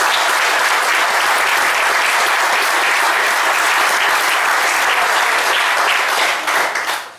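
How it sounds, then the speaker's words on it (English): A full room claps for the head greenkeeper and course staff at a golf pro-am prize giving: dense, loud, sustained applause from a large crowd that holds steady and tapers off near the end. "I think they really need a round of applause for that."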